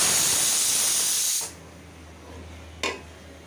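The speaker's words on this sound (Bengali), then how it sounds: "ইলিশ পোলাও রান্না করব, তাই পেঁয়াজটা ব্রাউন করে নিলাম" Sliced onions browning in hot oil in a pan for hilsa pulao give a loud, steady sizzling hiss that cuts off sharply, followed by quiet and one short hissing burst near the end.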